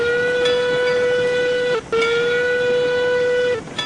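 A loud steam locomotive whistle in the video game Railroads Online sounds in two long, steady blasts with a brief break between them, over a hissy background.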